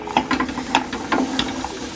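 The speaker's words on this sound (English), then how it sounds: "I'm just going to lightly toast them in the frying pan" Mixed nuts and almonds toasting in a frying pan with honey, giving a soft steady sizzle with scattered light clicks and scraping as they are stirred, close by.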